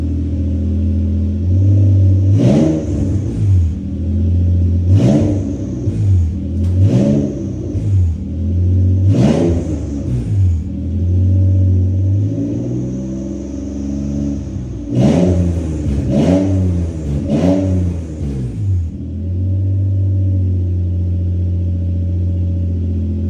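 A Nissan G35 sedan engine with no exhaust fitted revs repeatedly in short bursts over a steady idle, raw and loud, each rev rising then dropping back, close by with no talk.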